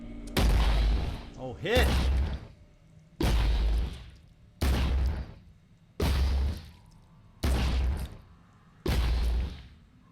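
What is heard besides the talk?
weapon rage burst firing in video game Phoenix Point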